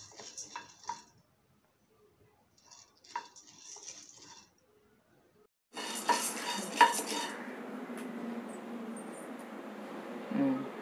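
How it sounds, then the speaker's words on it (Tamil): Roasted gram dal is dry roasted in a pan, first as a few sparse, quiet scrapes and rattles with gaps between them, then as a steadier, louder scraping stir that continues to the end. "அடுத்து பொரியடலையை போட்டுக்கிறோம்ப்பா. அதையும் நல்லா செவக்க வறுத்துருவோம்ப்பா."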